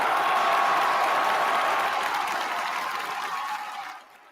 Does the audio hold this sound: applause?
yes